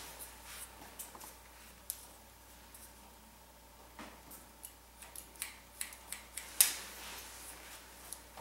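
Scissors snip through hair during a stacked haircut, faint, close metallic clicks coming sparsely at first, then in a quicker run of cuts toward the end over a quiet room.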